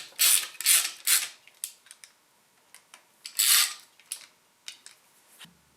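A wrench ratcheting 10 mm bolts snug on a John Deere 755 tractor engine, bursts of rapid clicking followed by sparse single ticks, close and quiet in an otherwise silent space.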